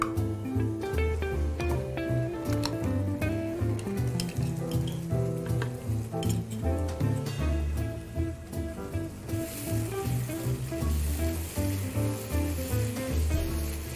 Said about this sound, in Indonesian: Sekarang kita siapkan untuk menumis.